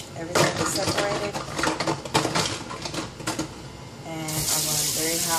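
Hot water runs from a tap into a sink where Playtex baby feeding bottles are washed, a steady close splash with dishes clattering now and then and a person talking over it.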